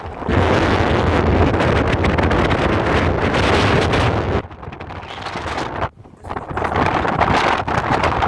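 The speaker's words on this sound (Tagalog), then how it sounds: "Ang lakas ng hangin, grabe." Strong wind gusting on a hilltop, a loud roaring buffet against the microphone that eases briefly and then surges back.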